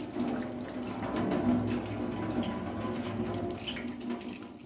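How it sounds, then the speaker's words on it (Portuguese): Running tap water pours steadily onto a beef heart in a kitchen sink, rinsing it before chopping; a continuous splashing stream stays close and fairly loud throughout with no talking. "E eu vou estar tá lavando ele antes de picar."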